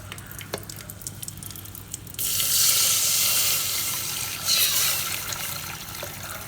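Strained tamarind water poured into a pot, starting abruptly after a quiet stretch with faint clinks, then a steady loud splashing pour lasting several seconds that swells briefly before tapering off.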